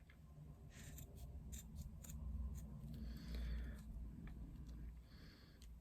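Sharp scissors snip through faux leather in a quick run of crisp, repeated cuts, close and fairly quiet, with no talking over them.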